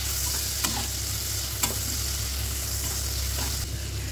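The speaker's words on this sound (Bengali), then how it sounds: "ভালো করে মিশিয়ে নেব সমস্ত উপকরণগুলোকে" Tomato and green chilli frying with salt and spices in a pan, a steady loud sizzle with a few sharp scrapes of stirring spaced through it, no voices.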